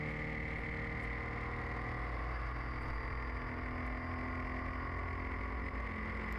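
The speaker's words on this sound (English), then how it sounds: "And into fourth, still accelerating up the hill." A car engine pulls hard in fourth gear while climbing a hill, a steady, loud, close mechanical drone with low rumble and no pauses throughout.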